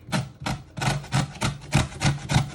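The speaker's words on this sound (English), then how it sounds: "So you keep turning it after a few grates till you get all the skin and the flesh." Fruit skin is rasped against a sharp grater for mince pies in rhythmic, close scraping strokes, about two per second, with no talk.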